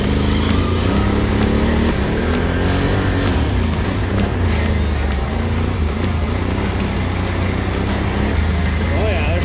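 A 2021 Can-Am Renegade 1000 XMR ATV churns through mud in four-wheel drive, its engine droning loud and steady with throaty low rumble throughout, while people talk over it.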